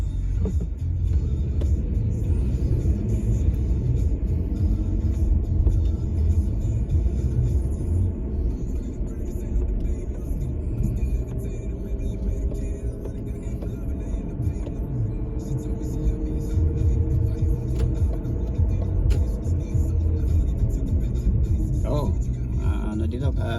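Car traffic in downtown Vancouver on a Saturday afternoon heard from inside a moving vehicle, a constant low engine and road rumble with passing vehicles, while someone talks throughout.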